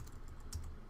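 Code being typed on a computer keyboard during an Android app programming session, a brief patter of a few quiet key taps over a steady background hum, with no voices.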